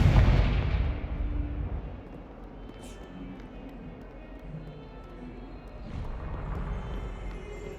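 A Confringo fire spell blasts in Hogwarts Legacy, opening with a loud booming burst that rolls into a lower rumbling tail and swells again near the end.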